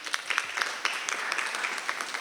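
Audience applause for a child performer named Chirag after a stage play, a steady patter of many hands with sharper individual claps popping out, moderately loud and continuous.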